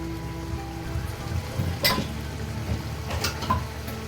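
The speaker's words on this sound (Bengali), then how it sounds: "এবার এটাকে খুলাই একটু ফুটিয়ে নেব" Rohu fish curry, ruhi machher jhal, simmers uncovered in a pan with a low bubbling sizzle and soft popping. A few gentle clinks or stirs rise briefly above the steady cooking noise, and no one speaks.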